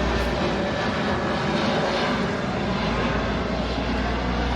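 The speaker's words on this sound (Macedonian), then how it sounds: "Еве го и авиона, ене." A propeller airplane near an airfield drones loudly overhead, a continuous steady engine roar filling the whole stretch without fading.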